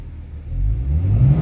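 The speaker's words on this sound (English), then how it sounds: "you're sitting here revving your engine like you're 17 years old" A car engine revs up close and loud, a deep rising rumble that climbs steadily in pitch over a second and a half with no voices.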